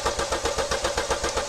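A Chevy Cruze engine cranks over on the starter with a fast, even rhythmic chugging, close and steady without catching, during turbocharger replacement work.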